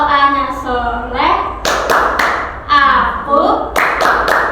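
Young children in an early-childhood class chant a rhythmic clapping song, sung phrases punctuated by groups of three sharp, close hand claps repeated twice.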